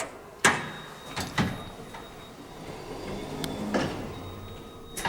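An Otis Series 2 hydraulic elevator door operator at a church runs through its cycle, with sharp clunks and rolling slides spaced across the moment, moderately loud and close, with no talk.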